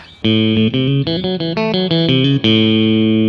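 A G&L Tribute Comanche electric guitar with all three pickups on plays a short chord phrase with a bright, full tone and light overdrive, ending on a sustained ringing chord.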